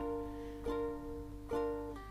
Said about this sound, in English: if we play those chords with just a down strum, it will sound like this